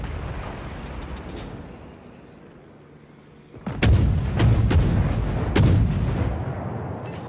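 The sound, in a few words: enemy cruiser Miyoko's guns firing, from video game World of Warships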